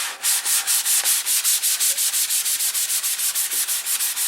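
Hand sanding on a P47 model airplane gives fast, even back-and-forth rasping strokes, about six per second, close and loud, with no talk.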